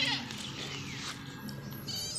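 Anglo-Nubian goats graze in a green pasture, with a few close bleats and a faint rustle of grass over a soft steady background.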